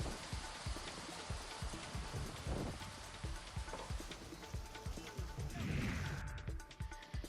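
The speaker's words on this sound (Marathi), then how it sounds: "ऐन उन्हाळ्यामध्ये शहरात अवकाळी पाऊस झाला आहे" Unseasonal summer rain falls on Nashik city, a steady close patter of drops striking surfaces with scattered heavier taps and splashes, fairly faint overall.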